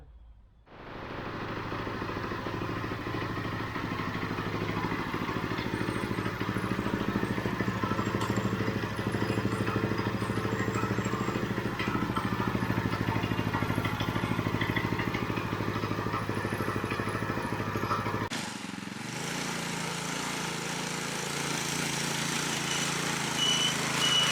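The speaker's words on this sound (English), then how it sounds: "we can break the engine in and go for a ride" A 224cc Predator small gas engine on a go-kart runs steadily and loudly throughout, with a rough idling clatter and a brief dip near the end before it picks back up.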